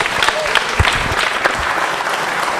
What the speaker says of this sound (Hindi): करीना के लिए जोरदार तालियां बजाइए